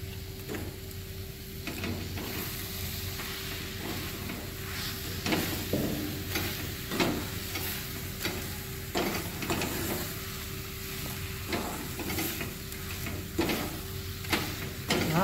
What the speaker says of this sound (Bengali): ভালো করে এটাকে আমি মিশিয়ে নিচ্ছি।